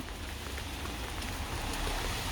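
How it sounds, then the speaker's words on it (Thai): Heavy rain pours down steadily, a dense broadband hiss that stays constant and close throughout, with no voices. "ฝนเทลงมาเทลงมาคุณพี่น้องเอ้ย ตกทั้งวีทั้งวัน"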